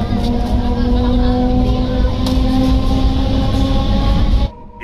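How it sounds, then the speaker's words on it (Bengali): Galloping local train from Howrah running at speed, a loud continuous rattling rumble with a steady hum and wheel clatter inside the carriage, cutting off abruptly near the end. "এই ট্রেনটি গ্যালোপিং লোকাল"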